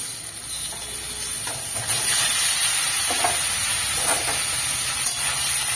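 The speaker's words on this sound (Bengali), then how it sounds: "একটু হাই ফ্লেমে আমি ফুলকপিগুলো লাল লাল করে ভেজে নেব" Cauliflower florets fry over high flame in hot oil with turmeric, giving a loud, continuous hissing sizzle that swells slightly and stays steady, with faint stirring knocks underneath.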